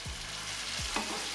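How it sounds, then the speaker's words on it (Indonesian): Boiling water poured into a wok of half-cooked stir-fried long beans with minced chicken, setting off a loud, steady frying sizzle and bubbling that fills the space without pause, with no talk. "kita tuang air yang sudah posisi mendidih ya"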